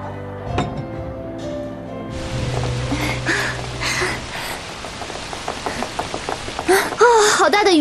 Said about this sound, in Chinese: 雨啊，